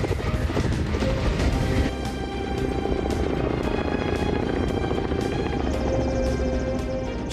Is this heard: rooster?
no